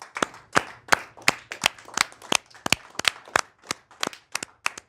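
A small audience claps together after a performance, sharp, crisp claps in a fast, fairly even rhythm, close and distinct rather than a dense roar of applause.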